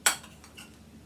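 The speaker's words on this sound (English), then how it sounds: "And I'll put some of that in my plate. And I'll put a little bit of fish on top of that." Utensil clinking against a plate while serving food with fish on top, one sharp close clink followed by a couple of faint softer taps.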